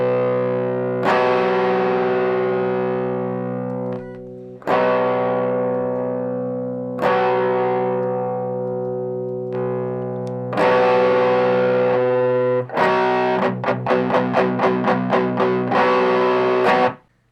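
An electric guitar plays through a Tube Screamer-style distortion pedal with the drive set low, cycling through presets: long sustained chords struck every few seconds, then a burst of fast rhythmic strums near the end, loud and alone.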